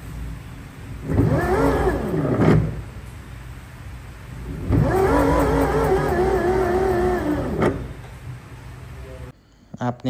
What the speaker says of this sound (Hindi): यहाँ पे मैं आपको गाड़ी स्टार्ट करके दिखा दूंगा